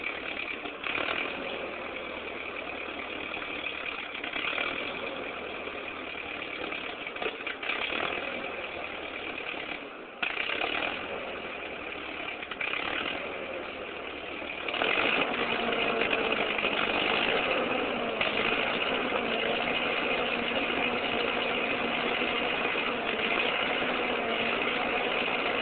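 A Ford 8N tractor engine runs and idles with a steady, slightly uneven putter that rises to a busier, rougher running note partway through, with no voices.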